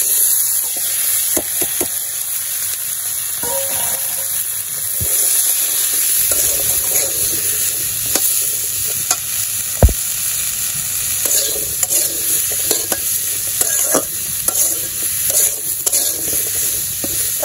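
Potatoes and eggplant with cumin fry in hot oil for a village-style curry, a steady sizzle running throughout with repeated scraping and clinking of a spoon stirring the pan, close and fairly loud with no talking.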